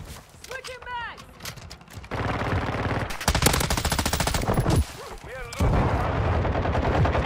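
Rapid automatic gunfire from Modern Warfare 2, with sustained bursts of close, loud shots mixed with distant firing, mechanical weapon clatter, and someone shouting callouts between bursts.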